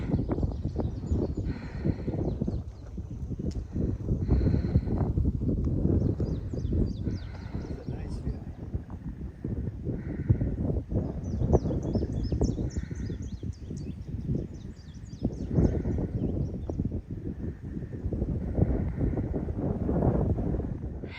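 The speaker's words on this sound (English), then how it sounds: "Wind's picking up." Wind gusts across an open Appalachian Trail section near power lines at Wind Gap, a steady low rumble and buffeting of the microphone that swells and eases throughout, with faint bird calls and occasional voices in the background.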